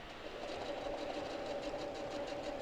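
Domestic sewing machine stitching feather quilting on a quilt, a quiet, steady, rapid whirring hum with a fast even rhythm of needle strokes, heard alone for a few seconds.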